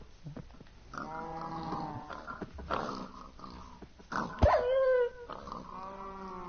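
A Minecraft wolf growling near pigs: a close series of low, rough growls and snarls, with a brief sharper yelp midway and quieter rumbling between, no talk.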